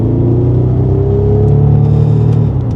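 A Bentley Continental GTC's engine drones steadily while driving on a road at moderate speed, a loud, close, even hum with a slight rise in pitch partway through and faint tyre and wind whir, no talk.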